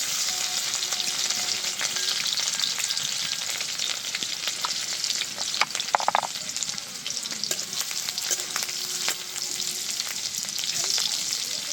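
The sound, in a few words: chopped garlic and green chilli frying in hot oil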